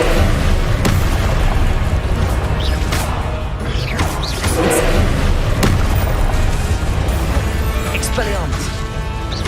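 Fiery Confringo blast spells in Hogwarts Legacy, booming explosions bursting repeatedly over a dense, continuous rumble of game noise, loud and close throughout.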